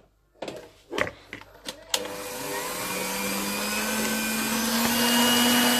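An electric mixer beats cookie dough with eggs and vanilla sugar, a few clattering knocks against the bowl giving way to a steady, rising motor whine that holds to the end.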